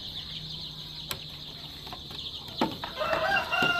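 Several native chickens cluck softly at a distance, scattered calls picking up toward the end over a faint hiss.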